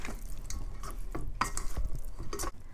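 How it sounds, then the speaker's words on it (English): Tofu being stirred through sauce in a pan, with scraping and light clinking of a utensil against cookware in irregular strokes, close and moderately loud, no talking. "And coat the tofu well"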